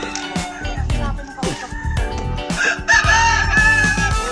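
A fighting rooster in Ubud, Bali, crows loudly and close by, several strained, rising calls in quick succession with a few clucks between them.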